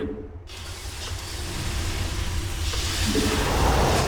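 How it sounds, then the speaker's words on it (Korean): A steady mechanical engine drone with whirring, ratcheting textures from StarCraft II: Wings of Liberty builds gradually in loudness, continuous and close, with no voices present. "엔진 소리 죽이는데?"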